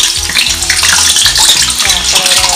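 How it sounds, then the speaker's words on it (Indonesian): A single potato piece drops into hot oil in a pan and bubbles with a loud, dense, continuous sizzle and crackle, close up and with no talking. "untuk ngetesnya bisa kita masukin kentang dulu"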